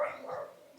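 A single short, faint dog bark, muffled and distant, on a street in Yalta, Crimea.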